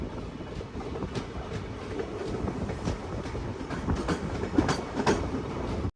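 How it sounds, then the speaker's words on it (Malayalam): A train pulls into Karwar station in Karnataka, a steady broadband rumble of rolling wagons with rhythmic clickety-clack wheel beats, close and fairly loud throughout, with no voices. "ട്രെയിൻ എങ്ങനെ കർണാടകയിലെ കാർവാർ സ്റ്റേഷനിലേക്ക് ഇതാ എത്തിക്കൊണ്ടിരിക്കുകയാണ്"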